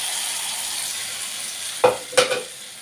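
Tomatoes hit a pan of frying onion, bursting into two sharp sizzling surges over a steady close hiss of hot oil.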